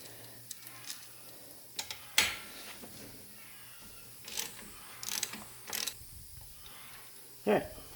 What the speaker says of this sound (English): take your 13mm socket and remove this bolt back here.